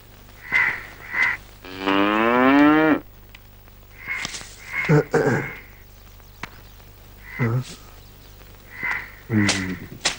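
A cow gives a long, drawn-out moo, fairly close and clear, amid a scene in which people speak in short bursts before and after it.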